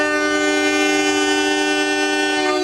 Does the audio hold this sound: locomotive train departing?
yes